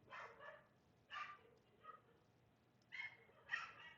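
A puppy barking in the background of a quiet room, a few short, faint yips and barks in scattered bursts with silent gaps between.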